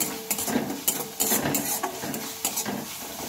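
Spice paste for a bottle gourd curry fries in oil while a spoon stirs it, giving soft sizzling under repeated scraping and clinking against the pan in an uneven rhythm, close and fairly quiet, with no voices.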